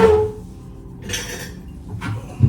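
A spoon clinks against a dish while making a pancake, with a bright ring at the start and a couple of lighter scraping taps afterward, close and clear with no talk.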